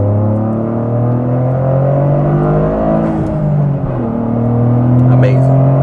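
Engine of a Toyota GR Corolla pulls hard while merging into traffic, a loud sustained growl rising in pitch through two gears with a brief shift dip, heard close from the cabin.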